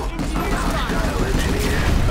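Dense, rapid gunfire in a Planetside 2 battle, loud and close, forms a continuous crackling barrage of overlapping shots with no pause.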